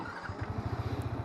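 A Yamaha XSR 155 motorcycle engine catches and settles into a quick, even idle, its close, steady low thumping pulses repeating without any talk.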